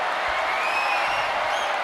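Crowd noise roars steadily from a video game wrestling arena, a dense unbroken wash of cheering with faint whoops rising at moments, sustained and fairly loud throughout.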